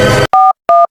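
A telephone call being placed in a Bengali comedy sketch: a short burst of noise, then two separate electronic tone beeps, each about a fifth of a second, clear and close with no voices.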